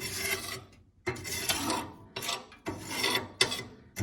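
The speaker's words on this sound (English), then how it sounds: "once I get the bulk of the ash out, I give it a good scrape" Ash gets scraped out of the burn pot of a Harmon Absolute 63 pellet stove in a few rough, gritty strokes, each lasting about a second, heard up close with short gaps between them.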